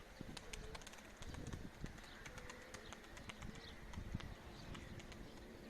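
Pigeons in a loft give soft, faint coos amid repeated wing flaps and scattered clicks and patter, with a low rumbling background throughout.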